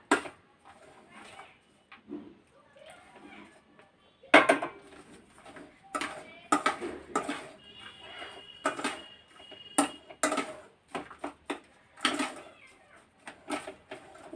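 Rava laddu mixture stirred with warm boiled milk in a pot, giving scattered clinks and scrapes of a utensil against the pot in irregular bursts, fairly close, with light background noise and no talk.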